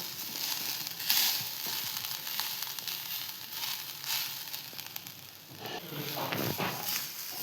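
Shredded coconut sautéing in ghee, a soft close sizzle with scraping and stirring noises coming in uneven bursts, fairly quiet and with no talking.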